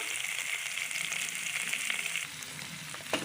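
Green chillies and tomato pieces frying in a pan for a mint chutney, a steady close sizzle that drops slightly in intensity near the end, with a brief clink at the close.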